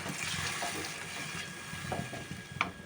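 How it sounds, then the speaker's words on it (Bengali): Boiled water is poured into a pan of fried spice paste for a curry of split pea fritters, giving a steady rushing hiss mixed with sizzling and a few clicks toward the end. "এবার আমি পরিমাণ মতো জল দিচ্ছি জলটা আমি ফুটিয়ে নিয়েছি"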